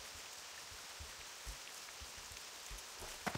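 Rain falls as a steady soft hiss in World of Warcraft, an even wash of light patter with faint scattered drops and no talk.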